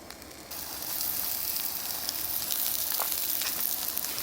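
Pancake batter hits a Lodge cast iron skillet at a campsite, a steady close sizzle that rises and holds after a brief quieter start, with no talking.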